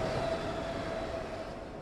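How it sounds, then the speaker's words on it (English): A train rumbles past in a video game, a steady loud roar with a faint high squeal running through it across the whole short stretch, no voices over it. "Well, that was a train."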